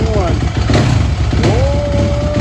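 A 2021 Yamaha YZ450 dirt bike engine running loud and close in a garage, a steady mid-pitched rumble with a whine sweeping up, while people talk over it.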